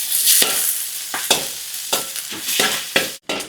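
Chicken fat from a free-range village chicken frying in a pan as the oil renders out, a loud crackling sizzle broken into repeated bursts by stirring, close up with no talking.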